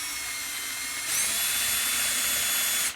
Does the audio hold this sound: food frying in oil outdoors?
no